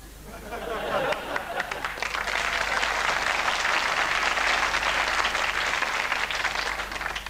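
Studio audience at a comedy show breaks into applause, building quickly from a sparse start into a loud, sustained wash of clapping that holds steady to the end, with a little chatter mixed in.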